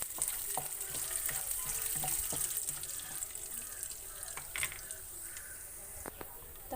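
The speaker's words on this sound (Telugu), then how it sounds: "ఆయిల్ హీట్ అయిన తర్వాత తాలింపు గింజలు వేసుకోవాలండి" Tempering seeds spluttering in hot oil for upma, a continuous bright sizzle with scattered popping crackles, steady and close, fading a little toward the end.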